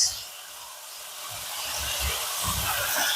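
Onions sizzling in a pan as they are stirred into meat for a rhubarb stew, a steady soft hiss with faint low knocks of stirring, no talk.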